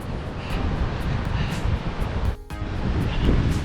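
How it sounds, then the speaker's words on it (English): Steady roaring wind buffets the microphone throughout during a 50k race on the Gold Coast, a dense rumbling rush with a brief dip partway through. "Really windy"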